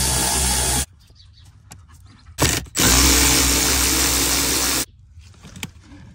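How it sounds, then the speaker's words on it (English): An electric ratchet backs out T20 screws on a BMW G12 7 Series during a cabin air filter replacement, with loud buzzing whirs in two long bursts and a brief one between them, separated by quiet gaps. "Now I'm gonna be using an electric ratchet, but you don't need this tool."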